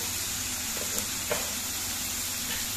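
Onion and garlic frying in a pan, a faint, even hiss of sizzling oil with a couple of light utensil clicks, close and quiet, without speech.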